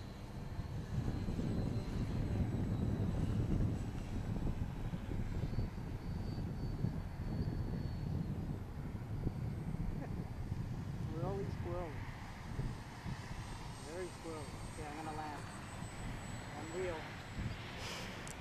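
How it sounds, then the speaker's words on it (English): An electric radio-controlled Great Planes SU-31 model airplane flies and comes in to land, a steady motor whine under a broad outdoor rumble, with people talking nearby throughout. "The problem with this plane is that it doesn't land slow."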